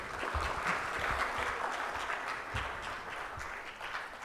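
An audience at a conference prize ceremony gives a round of applause, dense and steady clapping held at an even level throughout.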